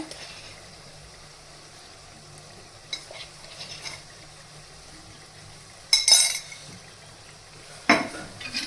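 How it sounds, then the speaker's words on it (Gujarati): Spices and garlic chutney being stirred in hot oil for a Gujarati drumstick curry, a soft steady sizzle broken by a few louder scraping clinks of the spoon against the pan, with no talking. "હવે આ બધા મસાલાને આપણે હલાવીને મિક્સ કરી લેશું અને જે લસણની ચટણી છે તેને થોડી વાર માટે આપણે તેલમાં આ રીતે ચડવા દેશું"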